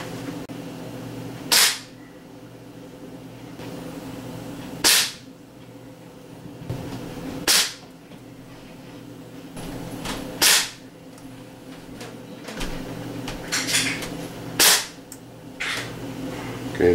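A Crosman MK-177 air rifle, a pellet gun styled after the FN SCAR and Bushmaster ACR, is fired from a rest at 30 feet with open sights. Six sharp, close cracks come a few seconds apart over a quiet background.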